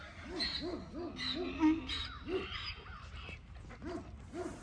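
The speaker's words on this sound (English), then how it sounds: "dogs who are barking" Several dogs bark in a quick, repeated run of short calls from some distance away, fairly faint over a low background rumble, with no talking.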